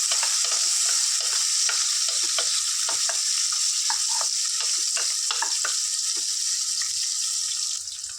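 Onions and green chillies crackle loudly in hot oil, an intense continuous sizzle broken by frequent scraping strokes of a stirring spoon.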